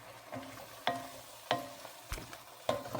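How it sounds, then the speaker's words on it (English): A spoon stirs tomato mac soup with pepper flakes and a bay leaf in a pot, giving a few soft scraping sweeps and light clinks against the pot in an uneven rhythm. The sounds are close but quiet, and no one talks. "And then we're going to give this a stir."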